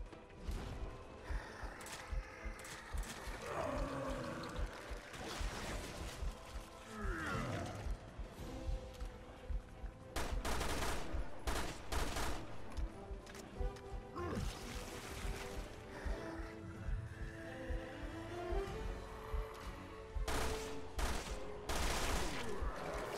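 Repeated bursts of gunfire from the survival-horror game Resident Evil Revelations 2, loud and dense across the whole stretch among heavy in-game ambience, with several sharp volleys clustered toward the middle and end.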